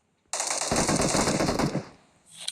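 Automatic gunfire rattles in a long, loud, continuous burst during a BGMI (PUBG Mobile) battle, then cuts off and trails into quieter game noise.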